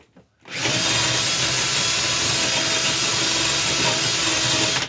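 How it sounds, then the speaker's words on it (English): A power drill spinning a brass rifle case trimmer starts after a brief pause and spins steadily at high speed with a continuous, loud whirring hum that holds to the end. "Give it a few spins on the drill"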